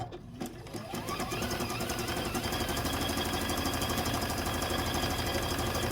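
A sewing machine stitches appliqué circles onto quilt fabric with a fast, steady mechanical chatter, loud and close, running continuously after a brief start.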